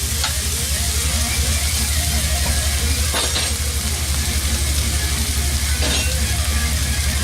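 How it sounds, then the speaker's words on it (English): Canned luncheon meat and tomatoes fry in a pan with a steady, close sizzle throughout, broken by a few faint clinks of a utensil against the pan. "Just give it a quick fry, a couple of minutes."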